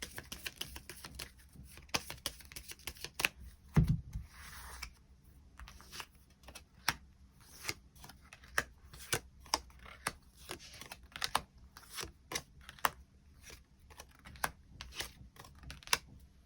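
Tarot cards are drawn one at a time and laid down in a quiet room, a long series of sharp, separate flicks and taps with short pauses, close and fairly soft, with no talking.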